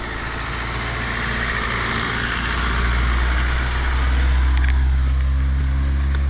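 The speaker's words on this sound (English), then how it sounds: "Oh, here comes the kids in the bus." A bus carrying schoolchildren arrives with a heavy low diesel engine rumble that grows louder and nearer, settling into an idling drone with a brief faint clank near the end.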